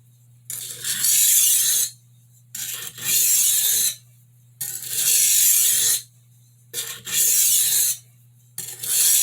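Long, even blending strokes draw an 8-inch chef knife across a sharpening stone, five rasping passes, each about a second and a half, separated by short pauses, with a faint low hum beneath.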